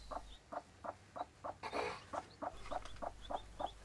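Faint, high chick peeps repeat in a quick, steady rhythm, with a brief rustle in the middle and a low hum beneath.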